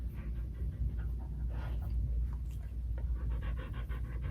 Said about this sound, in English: a very cute dog trying to get my attention